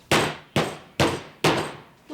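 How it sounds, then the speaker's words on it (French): A hammer strikes something hard four times in a steady rhythm, each sharp metallic-sounding knock trailing off before the next, with a fifth blow starting at the end; close and fairly loud, with no talking. "Prends ton beau marteau, Pierrot. Toc, toc, toc, toc, avec ton marteau, Pierrot."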